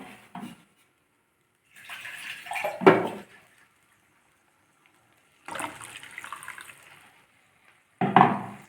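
Water poured into a mixer jar holding a tomato and chilli powder mixture for a dal-free tomato sambar, heard as several short splashing, clattering bursts separated by stretches of silence.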